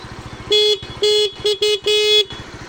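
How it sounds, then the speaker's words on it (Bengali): A Honda Super Cub motorcycle horn honks in five short blasts of uneven length, loud and close, over a steady engine idle. "হ্যাঁ, আবার দাও হর্ন"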